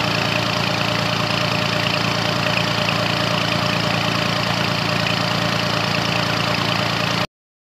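A tractor's diesel engine idles in a steady, loud, unbroken drone with a faint knocking rhythm, continuing alone until it cuts off abruptly at the end.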